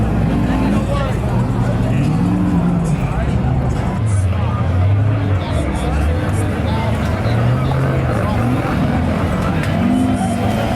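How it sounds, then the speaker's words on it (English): A giant quad bike ridden hard on a night off-road run, its engine droning and rising and falling in pitch throughout, loud and close, with voices talking over it. "He's riding a giant quad."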